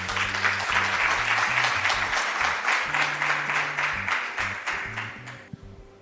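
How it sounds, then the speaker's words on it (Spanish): An audience at a creative-industries conference forum applauds to welcome a speaker. The clapping is dense and steady, sustained for several seconds, and thins out near the end. "la recibimos con un muy fuerte aplauso"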